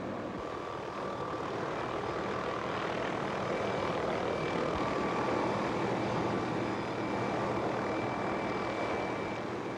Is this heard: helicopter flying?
yes